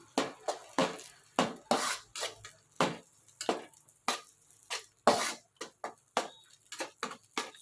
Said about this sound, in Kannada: ಈಗ ಹಾಲು ತುಪ್ಪ ಫ್ರೆಂಡ್ಸ್ ಎಲ್ಲ ಮಿಕ್ಸ್ ಮಾಡ್ತಾ ಇದ್ದೀನಿ ನೋಡಿ